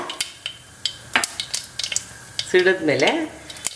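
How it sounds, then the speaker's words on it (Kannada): Mustard seeds sputter and pop in hot oil for Kannada-style kara pongal, with scattered crackles and a brief louder sizzle burst, along with faint kitchen clatter. "ಸೊ ಕಾದ ಎಣ್ಣೆಗೆ ಸಾಸಿವೆ ಹಾಕೋತೀನಿ"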